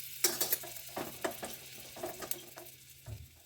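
Cumin, chilies and potatoes sizzle in melted butter in a pan, with soft stirring scrapes and light clinks against the metal coming in short, uneven bursts close by.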